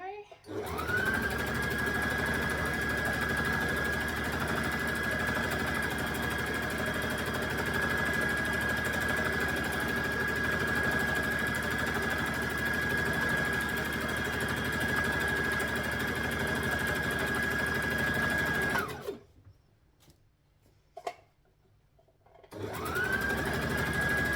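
A sewing machine stitching a dress, a steady close motor whir with a sustained whine running continuously, then stopping abruptly before briefly restarting.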